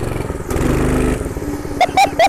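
Predator 212cc engine on a minibike, loud near revving with a rough throbbing drone that swells, dips, then surges in short bursts.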